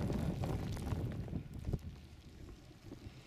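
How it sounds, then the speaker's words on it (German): Heavy wind with snowfall on Kahler Asten, one of the highest peaks in North Rhine-Westphalia, gusting and rumbling against the microphone, loud at first and then easing into softer buffeting, no voices. "Heftiger Wind, gepaart mit Schneefall."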